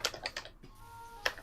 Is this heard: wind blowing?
no